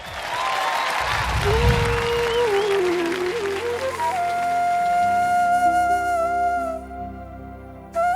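Audience applause for a singer at a televised Pakistani talent show, a loud crowd cheer that fills the stage as music swells in beneath it and carries on to the end.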